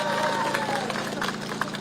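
A crowd at an outdoor political campaign rally in Guri Plaza, South Korea, claps and cheers in a dense, continuous wash of applause and crowd noise.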